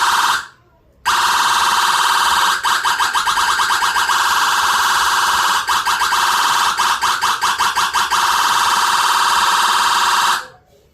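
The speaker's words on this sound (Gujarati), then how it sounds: "આપણો ફેવરેટ હોર્ન ગાઈસ" A custom vehicle horn played from a horn sampler blares loudly and steadily, with several rapid stuttering bursts of repeated tones partway through, then cuts off at the end.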